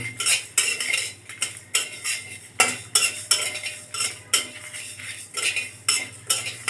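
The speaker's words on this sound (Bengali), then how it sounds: "চুলাটা হালকা করে দিয়ে মশলাগুলি ভেজে নিব" Dry red chilies and spices are dry-roasted over low heat in a wok, stirred with a metal utensil in a steady run of rhythmic scraping clanks over a faint sizzle, close and with no voices.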